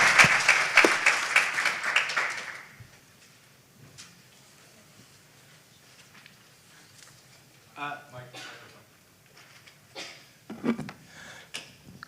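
Audience applause at a pitch competition, loud and dense for about two and a half seconds and then fading, followed by quieter room sounds, scattered claps and a few stray clicks and knocks.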